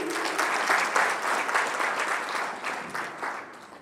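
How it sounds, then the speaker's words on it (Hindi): An audience at a Brahma Kumaris Mahashivratri celebration in Ambala Cantt claps together, a sustained round of applause with rhythmic swells that stays fairly even and moderately loud throughout. "एक और बार ताली हो जाए इनके लिए।"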